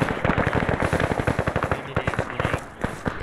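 Sustained gunfire in the military video game Arma 3 during an assault on a walled castle, a dense rapid rattle of automatic shots close by, with occasional heavier thumps among them.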